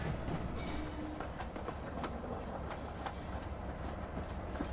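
A train rolls along in the video game Voidtrain, steady rumbling with repeated clickety-clack wheel clicks and brief metallic squeals over several seconds, no talk.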